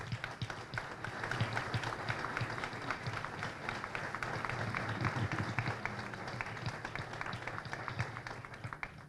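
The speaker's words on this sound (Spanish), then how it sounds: "para quien pido un aplauso" Audience applause at a Mar del Plata event, a steady wash of many hands clapping at moderate level throughout, with a faint crowd murmur and no clear voice on top.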